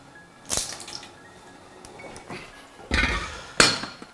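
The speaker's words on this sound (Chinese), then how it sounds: "好，热油倒出来" Hot oil tipped out of a seasoned iron wok while cooking potato and chicken drumsticks, heard as a few scattered clanks and splashy pours, with two louder metallic bursts near the end.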